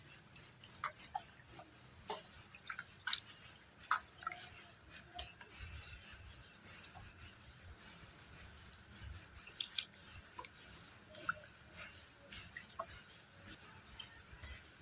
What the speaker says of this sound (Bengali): এবার প্রথমে আমগুলোকে জল দিয়ে খুব ভালো করে ধুয়ে নেব